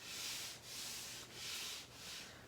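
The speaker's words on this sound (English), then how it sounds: "So there is a fair amount of bark still on this edge that this wheel is cutting into." A spinning wheel grinds into the bark on the live edge of a maple board, giving a steady abrasive rasp that swells and eases in four long passes, close and continuous with no talking.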